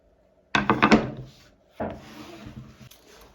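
Edges of wooden decorative bicycle parts are leveled by hand: two close rasping strokes of wood rubbing. The first is sharp and gritty, the second softer and drawn out, with quiet between them.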